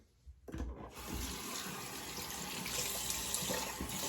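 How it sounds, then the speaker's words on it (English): Tap water runs onto a razor for a cold rinse, a sudden splash starting after a brief quiet, then a steady close rushing and spattering stream that continues to the end. "Cold water rinse."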